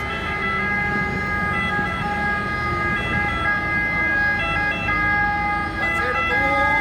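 An ambulance siren wails steadily on a street in Gela, Sicily, holding loud and continuous over traffic and street noise throughout, with a rising sweep near the end as it passes.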